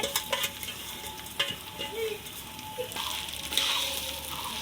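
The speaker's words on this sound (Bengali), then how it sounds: "এই যে ডাল আর চালটা ভালো করে ভাজা করা হচ্ছে।" A soft, steady sizzle of dry lentils and rice frying together in a pan, with occasional light scrapes and clinks of stirring, fairly quiet and close.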